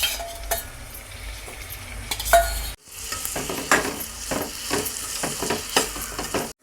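Dried fish frying with onions and ginger paste in a pan for a tamarind curry, a continuous sizzle broken by scraping stirs of a spoon, with a brief cut in the middle, then livelier stirring and no talk.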